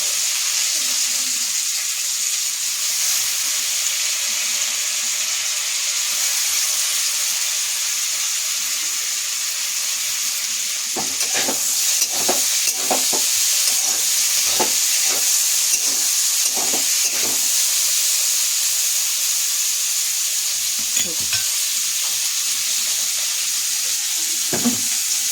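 Beans and potatoes frying in a pan, a steady hiss of sizzling oil broken mid-way by a run of scraping stirs from a spatula, then settling back to an even sizzle.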